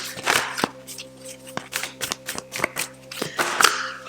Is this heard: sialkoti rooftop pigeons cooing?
no